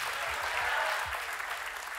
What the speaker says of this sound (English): Come on, clap if you're going to clap.